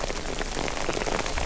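Rain falls steadily at night on an open hillside, a dense close hiss of drops hitting surfaces with no pauses and no voices.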